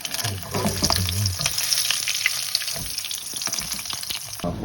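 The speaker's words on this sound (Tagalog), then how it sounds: "Ayan, masisangag tayo kanin. Pa-browning." Cooked rice frying and being stirred in a pan for breakfast, with continuous sizzling and scraping close up.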